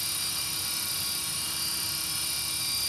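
A helicopter holds a steady hover, its rotor wash and turbine whine forming a continuous loud roar with no gaps, up close and alone without any voices.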